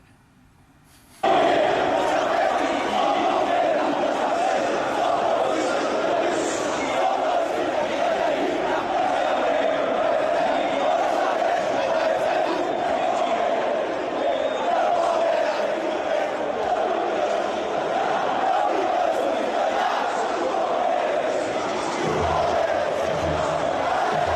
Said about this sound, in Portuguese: E o Allianz cheio, os jogadores ali comemorando com a torcida no final.